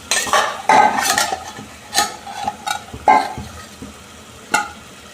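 Ration rice cooking in a pot being stirred, with irregular scraping and clinking strokes of a utensil against the pot over a soft sizzle, close and fairly loud.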